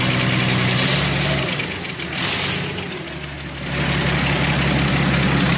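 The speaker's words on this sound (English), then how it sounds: "Old school Delco Remy generator. A little bit of juice here. The old generator kicking." A 1929 Chevy rat rod engine with an old Delco Remy generator runs at a steady idle, close and loud, with a dip and swell in the rumble partway through.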